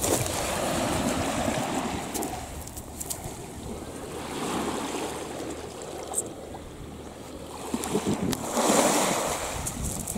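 Surf from an incoming tide washing steadily onto a beach, a continuous broad rush that swells near the end, with some wind buffeting the microphone and no talk.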